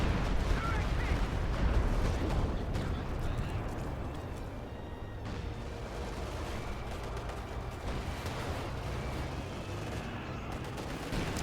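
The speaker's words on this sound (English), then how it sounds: "Stuka firing." A Stuka dive bomber firing in the World War II strategy game Company of Heroes 2, heard as sustained rumbling gunfire and explosions in a dense, continuous battle din.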